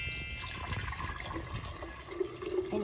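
Liquid is poured into a container for a Mother's Day brunch, making a steady close watery splash and gurgle that runs without talk and rises slightly in pitch toward the end as it fills.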